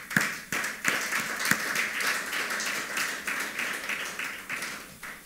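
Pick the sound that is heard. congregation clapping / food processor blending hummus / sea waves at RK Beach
congregation clapping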